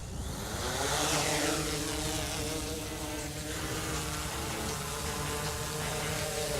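A DJI Inspire 1 drone lifts off, its propellers building into a loud, steady, close buzzing whine with a rising pitch sweep that then holds level throughout.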